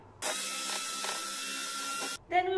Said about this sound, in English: To start, we will whisk the eggs until they become just frothy